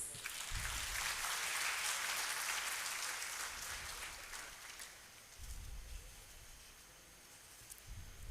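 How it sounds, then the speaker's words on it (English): A big round of applause at a foundation day lecture ceremony marking a system launch, a dense crowd clapping steadily for several seconds before fading, with a few scattered claps near the end. "May we have a big round of applause"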